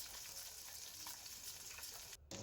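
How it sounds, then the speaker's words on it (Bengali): Rohu fish pieces rubbed with salt and turmeric fry in a pan with a quiet, steady crackle and hiss. A brief dip in the sound comes near the end. "এর জন্য আমি রুই মাছগুলো নুন হলুদ মাখিয়ে রেখেছিলাম। এবার এগুলো ভেজে নিচ্ছি।"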